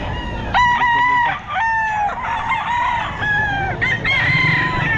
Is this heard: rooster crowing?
yes